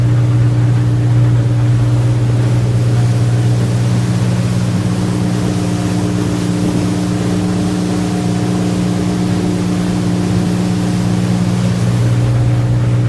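A 2021 Steiger Craft 255 DV Miami motorboat engine drones steadily and loudly throughout, a low constant hum with faint water rush underneath, no voices.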